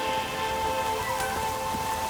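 Steady rain during a storm in The Witcher 3, a dense, even hiss of drops on surfaces with faint tonal game ambience underneath, no voices.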